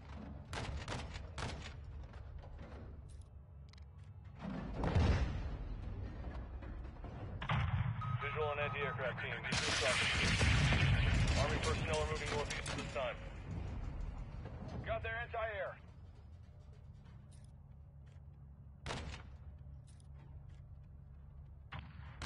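Distant heavy gunfire and booming impacts from an AC-130 gunship in Modern Warfare 2, rumbling under radio chatter and voices, with a louder sustained stretch of firing in the middle.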